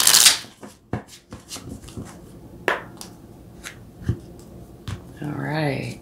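Tarot cards being shuffled at close range in a series of brisk riffles and taps, followed by a voice talking.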